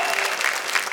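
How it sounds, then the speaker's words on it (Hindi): A burst of audience applause on a TV comedy-poetry show stage, dense and continuous clapping from a studio crowd throughout a brief moment. "किरण दुबे के लिए तालियां बजाइए।"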